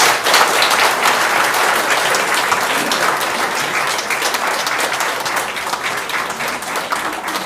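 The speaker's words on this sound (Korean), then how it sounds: "박수로 모시겠습니다" A church audience claps steadily to welcome a preacher to the pulpit, with dense, sustained applause at an even level throughout.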